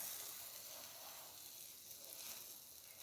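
Buttered bread sizzling on a toaster without oil, a faint steady hiss that carries on evenly, with no talking.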